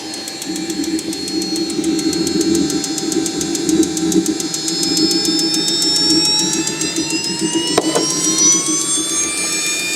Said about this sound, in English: this will be the first run of this Swiwin 300 or 240